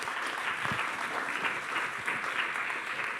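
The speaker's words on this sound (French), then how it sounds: "Il n'est pas interdit de les applaudir." Steady applause from an audience at a talk on climate change, a dense even wash of clapping that holds at moderate level throughout with no voices over it.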